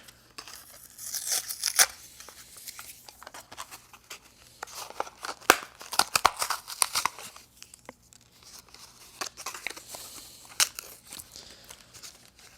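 Hot Wheels Premium plastic blister packaging is torn and crinkled open by hand in irregular bursts of ripping and crackling, loudest midway, with quieter pauses between.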